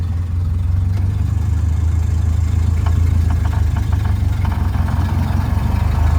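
A car engine running in first gear produces a steady, loud, low hum throughout, with faint higher rattles in the middle.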